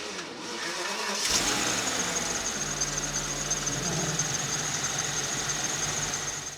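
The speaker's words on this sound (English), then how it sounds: "this car has got quite a bad pulley noise." A VW Phaeton W12 engine starts and runs steadily, with a persistent high-pitched whine or squeal from a bad pulley riding over the rumbling idle.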